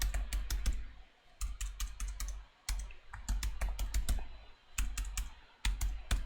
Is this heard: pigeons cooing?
no